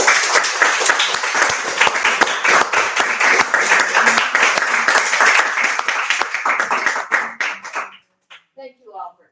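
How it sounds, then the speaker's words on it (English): A large audience applauds loudly and steadily at a book signing event, dense clapping sustained for about eight seconds before tapering off, with a few voices audible as it ends. "I could have a massive round of applause for them."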